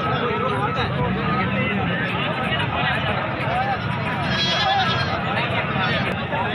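Goats bleat amid a busy livestock market crowd, with dense babble and shouts of people talking throughout, the animal calls mixed into the steady loud hubbub.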